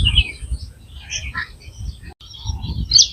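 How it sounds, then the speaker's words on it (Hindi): Nesting birds at the Nawabganj Bird Sanctuary give scattered high chirps and calls over a low outdoor rumble, moderately near, with a short break partway through. "बहुत ही खूबसूरत पक्षी जो हैं यहाँ पर नेस्टिंग किए हुए हैं, और आपस में हर टाइम चीं चीं चैं चैं इनकी लगी हुई है।"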